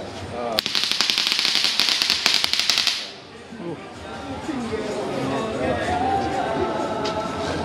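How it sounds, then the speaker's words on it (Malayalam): A remote-triggered firecracker string is set off at a Kochi Christmas shop, a loud, rapid burst of crackling pops for over two seconds, followed by people talking over street noise. "അത് റിമോട്ടിലാണ് പടക്കം പൊട്ടിക്കുന്നത്."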